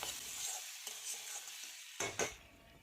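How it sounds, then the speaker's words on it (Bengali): Beans, potatoes and carrots are stirred in a pan with ginger, garlic and chaat masala, a soft frying hiss with quiet spatula scrapes, faint and close, ending in two sharper clinks. "এবার এগুলিকে ভালোভাবে নাড়াচাড়া করে নেব।"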